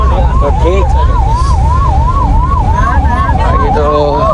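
An ambulance siren on a busy road during a Mumbai trip, heard as a loud, steady wailing tone that rises and falls continuously over heavy traffic noise.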